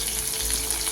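Gati kochu curry with salt and turmeric fries in a pan, giving a short, steady sizzling hiss with faint stirring, close and continuous.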